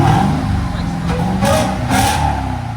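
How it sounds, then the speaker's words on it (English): A 2023 Dodge Charger Hellcat with a Valvetronic muffler and Carven R-Series exhaust idles loudly, then revs twice in quick succession with a supercharger whine over the engine rumble. "So you can hear the supercharger"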